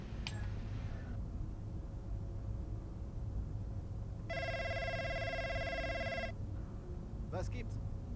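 A telephone in the F1 23 racing game rings once in a clear two-second burst, with a faint short chirp afterward over a steady low hum.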